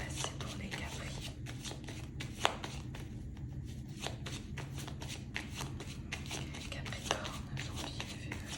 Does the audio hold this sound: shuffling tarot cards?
yes